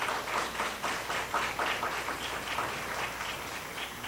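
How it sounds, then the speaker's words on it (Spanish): An audience at a university forum on violence against women gives a sustained round of applause. The clapping is fairly quiet and dense, with a slight room hum underneath and no speech. "A todos ellos pido un gran aplauso"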